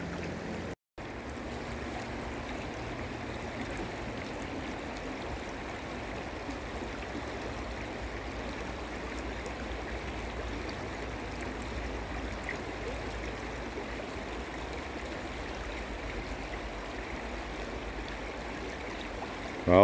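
River water rushes in a steady, unbroken wash beside a gold-prospecting pan, with a constant close-up roar and no pauses across the stretch.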